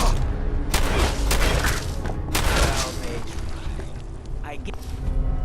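Booming gunfire from Gunners in Fallout 4 rolls out in loud, heavy bursts of shots and blasts, with someone talking over part of it.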